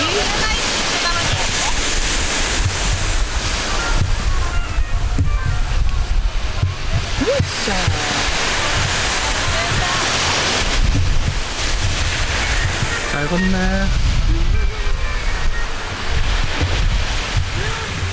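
Sea waves on an Okinawa beach make a continuous loud roar of surf, with strong wind buffeting the microphone and people talking close by.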